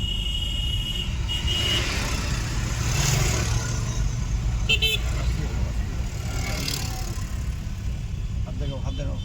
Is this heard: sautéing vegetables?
no